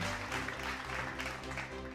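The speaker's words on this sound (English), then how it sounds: "please give a round of applause for our moderator and panelists for our first casual talk session" A conference audience at Indonesia's FEKDI 2023 digital economy festival applauds its moderator and panelists, the clapping spread evenly over steady background music throughout the two seconds.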